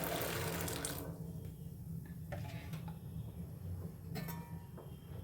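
A pot of water with sugar and salt boils on a stove, giving a steady bubbling, rushing hiss that runs through the whole stretch at moderate level with a few brief clinks.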